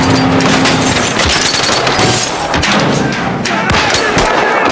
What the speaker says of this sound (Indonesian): para polisi yang bersembunyi pun muncul dan terjadilah tembak-menembak di antara mereka